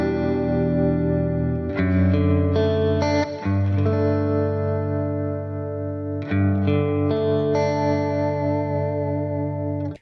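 An electric guitar played through a reverb pedal on its modulation setting rings out sustained chords, with two clear strums, each blooming into a long, shimmering, wavering wash of reverb, loud and alone.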